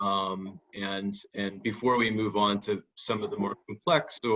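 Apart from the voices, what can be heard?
No everyday noises stand out.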